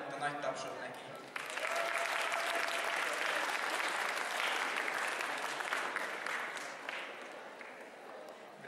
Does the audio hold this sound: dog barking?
no